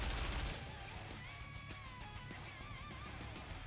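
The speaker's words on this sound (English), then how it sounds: "It sprays bursts of gunfire into likely hiding spots" Rapid bursts of gunfire from the game Nikke, dense and crackling at first, then continuing as lighter rattling shots mixed with whirring mechanical tones, fairly faint overall.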